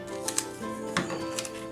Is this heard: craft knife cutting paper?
yes